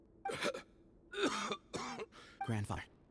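Rough, repeated coughing and throat clearing from a male character in the Genshin Impact video game, four or five separate hacking bursts spaced by short pauses.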